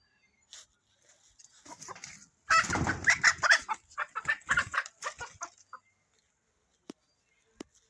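A chicken clucks in a burst of quick, rising calls, then falls quiet apart from a couple of faint clicks.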